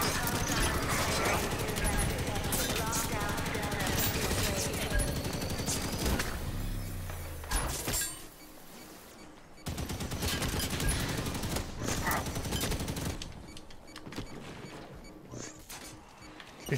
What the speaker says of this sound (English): Enemy firing near the tanker.